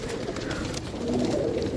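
Pigeons kept for sale in Jhelum, Pakistan, coo softly in a continuous low murmur, close by and without speech.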